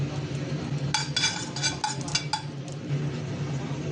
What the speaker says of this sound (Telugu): జీలకర్ర వేయించుకోవాలి.